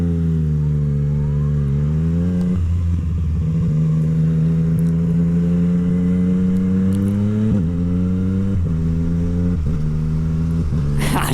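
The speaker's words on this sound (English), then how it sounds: "When it's nice and hot, the bike, it likes to pop, as you guys could probably hear." A Yamaha MT-09 motorcycle fitted with a full Akrapovic exhaust, hot from riding, rumbles loudly and close, its engine revving up and down through several gear shifts with occasional pops and crackles from the exhaust.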